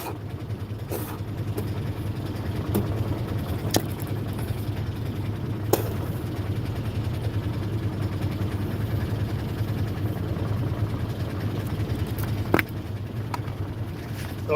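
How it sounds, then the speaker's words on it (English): A vehicle engine idles with a steady low rumble, with occasional clicks and knocks over the constant hum. "Listen to that engine purr, baby"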